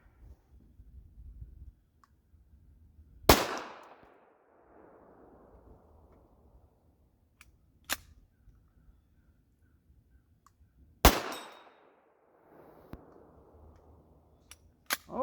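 Two heavy, sharp gunshots from a .50 Beowulf rifle crack out at an outdoor range several seconds apart, each followed by a rolling echo, with faint clicks and handling noises in between.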